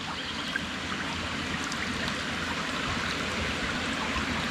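A rain-swollen river rushes steadily, a broad continuous wash of flowing water with no pauses, heard close and fairly loud with no voices over it.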